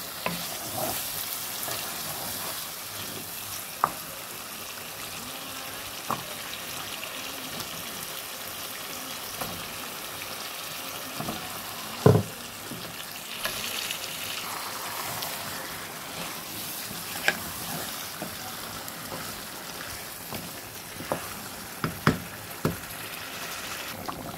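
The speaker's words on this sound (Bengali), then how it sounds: "এদিকে আমি মাছ দিয়ে নিলাম। এখন আলুটাও দিয়ে নিব।" Fish and potato pieces frying in a pan give a steady, fairly quiet sizzle across the whole stretch, with occasional sharp clicks and spatters rising above it and no voices.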